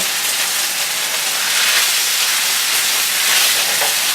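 Udon noodles with chicken and vegetables stir frying in a hot pan, a steady broadband sizzle and hiss that holds for the whole stretch, close and fairly loud, with no talking.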